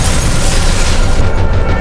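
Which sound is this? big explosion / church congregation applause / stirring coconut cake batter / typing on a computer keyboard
big explosion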